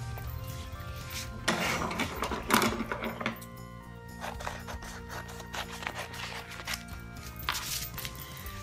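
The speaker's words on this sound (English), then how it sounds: "so I'm going to cut all of mine in half" Scissors cut 12-inch paper sheets in half for a sunflower paper wreath, giving a few close, crisp snipping and rustling bursts over a quiet background with soft music.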